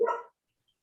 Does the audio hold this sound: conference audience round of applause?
no